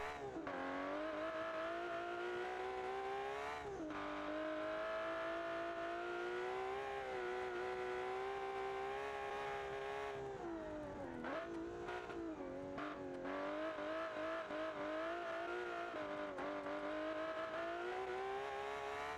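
A drift car with carbon ceramic brakes, built in Automation and driven in BeamNG.drive, produces a continuous high engine whine that rises and falls with throttle, dipping briefly a few times and occasionally giving a short tire squeal.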